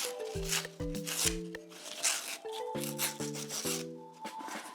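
Scrap paper edge being roughened by hand, with brisk rasping rub strokes in short bursts over steady background music tones.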